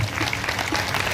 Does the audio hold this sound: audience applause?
yes